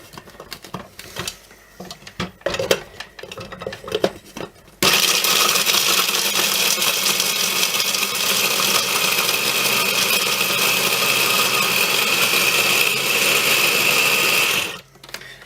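Pecans are chopped in an electric chopper, which gives a loud, steady motor whir for about ten seconds and then stops. Quieter clatter comes before it.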